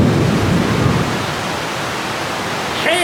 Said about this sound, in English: Whoa! That was lightning.